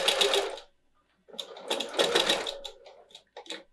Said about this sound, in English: So I'm just gonna stitch a couple of inches.